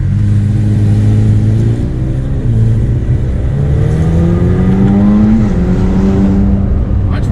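Full carbon-fiber widebody McLaren 720S engine revving loudly from inside the car, pitch climbing and dropping through gear changes as it accelerates, continuous and close.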